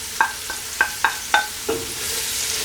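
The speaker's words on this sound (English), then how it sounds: "I'm gonna cook this down for about a minute or 2 for the onions and shallots to soften up" Onions and shallots cooking over medium-low heat in a pan for vodka sauce pasta: a utensil clinks and scrapes against the pan about six times in an uneven rhythm, close by, over a faint steady sizzle.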